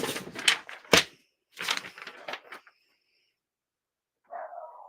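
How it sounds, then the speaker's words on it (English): A dog barks outside at night in a few sharp, distinct yaps near the start, then goes quiet, followed by a brief higher whine or creak at the end. "I have to bring the dog in that's barking"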